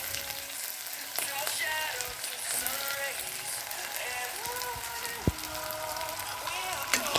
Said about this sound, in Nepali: र अर्कोपट्टि कराईमा मैले लिए ओइल अनि जिरा दाना र सुकेको खुर्सानी हाल्दे। र त्यसपछि मैले लिएको छु प्याज।